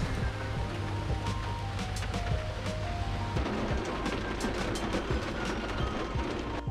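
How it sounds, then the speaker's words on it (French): Rain falls during a summer stay in Germany, a steady diffuse patter with scattered sharper drops and a low rumble underneath, heard close and moderately loud. "Vous entendez la pluie?"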